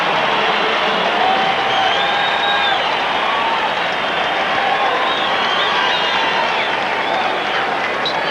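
Dense stadium crowd at a 1993 NFL game, Chargers at Broncos in Denver, roaring and cheering steadily throughout, a loud continuous wash of voices with no clear breaks.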